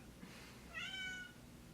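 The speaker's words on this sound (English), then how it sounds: "Why is my cat yelling at my door?" A cat gives one drawn-out, wavering meow at a door, mid-distance, over a low steady background hum.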